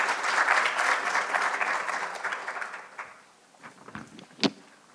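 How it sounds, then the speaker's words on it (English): Loud crowd applause at a research symposium presentation fades out over a few seconds, leaving a few scattered claps and a sharp bump near the end. "just give him a round of applause"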